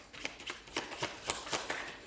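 Tarot cards being shuffled by hand, a quick series of soft papery riffles and flicks in a steady rhythm, close and fairly quiet with no voices.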